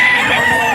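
An eleven-month-old SBR National Banded rooster crows loudly and close by in a short burst, brought to a seller's gathering in Bocaue, Bulacan.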